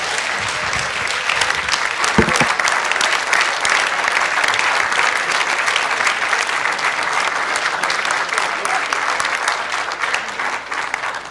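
Sustained audience applause at the Asia Society during an address by Aung San Suu Kyi, a thick unbroken roar of many hands clapping, loud and even for over ten seconds.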